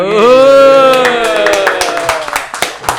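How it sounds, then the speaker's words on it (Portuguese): A sustained voice opens the moment, then a small group in a podcast studio breaks into scattered claps that grow sharper and more spaced toward the end. "Aplausos"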